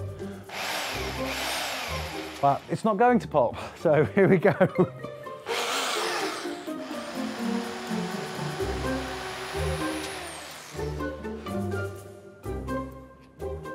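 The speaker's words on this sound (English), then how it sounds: "I'm going to change the drill and go in with a thicker drill bit." A power drill with a thick bit whirs in sustained bursts, grinding into hard marble, with a person talking briefly before the drilling starts.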